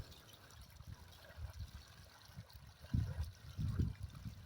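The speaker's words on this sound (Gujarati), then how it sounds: "જો પાણી જાય છે" Water flows and trickles steadily at low volume, with a few louder gurgling splashes near the end and no talking.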